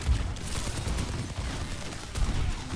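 Soldier 76 firing in an Overwatch duel, bursts of rapid gunfire from the game with low thumps at the start and near the end, steady and fairly loud, with no talk over it.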